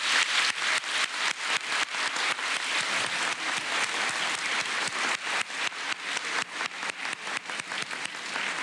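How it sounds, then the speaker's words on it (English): An audience at a middle school closing ceremony gives a long, loud round of applause for graduating students, dense clapping from many hands that carries on steadily without a break. "Let's have a warm round of applause."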